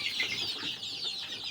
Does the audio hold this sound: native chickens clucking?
yes